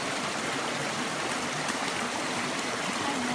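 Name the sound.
stream of clean flowing water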